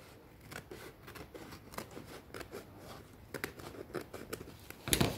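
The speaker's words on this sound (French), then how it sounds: "J'ai un massicot qui coupe mal." A paper trimmer that cuts poorly slices through paper, a series of soft scratchy snips and shuffles, quiet and close, ending with a sharper crunch.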